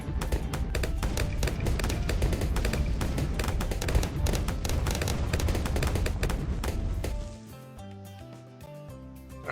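Rapid, dense cannon and projectile fire in the tower-defense game Bloons TD 6, a continuous rattling barrage of loud impacts for about seven seconds before giving way to quieter game music, with no talk.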